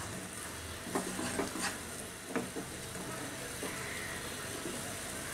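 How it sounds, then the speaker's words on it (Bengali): A milk powder burfi mixture is scraped and stirred in a pan as it dries over the heat, giving a faint, steady sizzle with a few soft scraping strokes close by. "সেই জন্য আরেকটু ঘষে ঘষে এটাকে ভেজে নিতে হবে আরেকটু শক্ত শক্ত করে"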